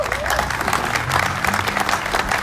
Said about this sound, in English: Applause for Shan and the entire team.